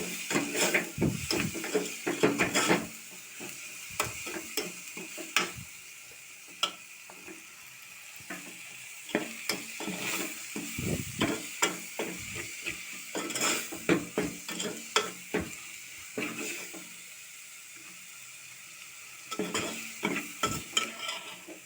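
Egg curry being stirred in a pan, with repeated scraping strokes of a spoon against the pan over a soft background sizzle. The strokes come in bursts with short pauses between them, close and fairly loud, with no talking.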